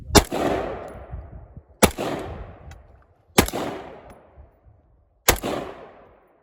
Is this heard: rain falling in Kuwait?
no